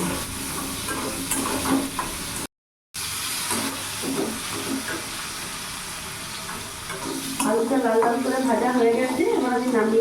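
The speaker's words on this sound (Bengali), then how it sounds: "আলুটাকে একটু লাল লাল করে ভেজে নেবো" Potato pieces fried in hot oil with salt and turmeric for a pumpkin panch phoron dish, a loud close continuous sizzle and hiss with occasional stirring, building stronger toward the end.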